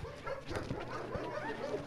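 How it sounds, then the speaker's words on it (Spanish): Dogs bark and yip in the distance around an outdoor sports-complex construction site, several faint, scattered calls over steady background noise. "Parece que hay perros por acá."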